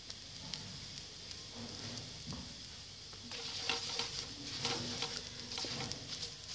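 Maida flour roasting with black pepper and spices in a pan, a soft steady crackle with scattered scrapes and stirring taps, gaining a little in density toward the end, close and moderately quiet with no talking.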